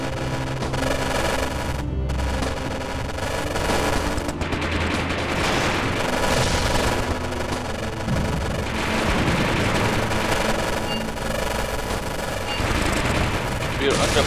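Continuous battlefield gunfire and booming shots in the tank game Achtung Panzer Kharkov 1943, loud and sustained with machine-gun bursts, while someone talks over the combat.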